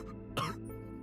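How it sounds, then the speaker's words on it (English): A character coughs in the Chaos Zero Nightmare video game, a single short harsh cough burst heard up close over a low steady background hum. "Judas coughs up a noticeable amount of blood."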